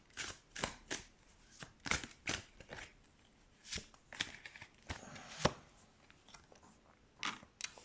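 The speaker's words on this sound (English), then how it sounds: "Let's shuffle some tarot cards." Tarot cards shuffled by hand in a series of crisp, riffling bursts at an uneven rhythm, close and fairly quiet, with no talking.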